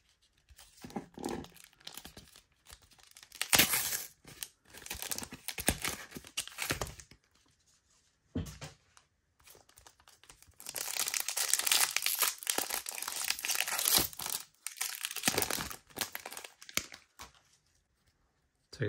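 Pokémon Fusion Strike card packs are torn open and their foil wrappers crinkled up close, coming in bursts of rustling and tearing with short quiet gaps between them.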